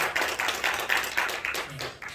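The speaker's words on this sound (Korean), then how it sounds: "다 함께 박수로 영광 돌립니다." A small gathering at a church association meeting claps, a few people beating out separate strokes, fairly close and alone.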